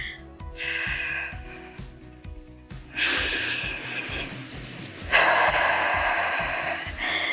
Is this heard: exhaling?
yes